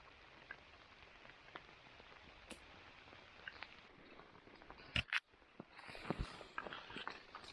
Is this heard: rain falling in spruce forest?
yes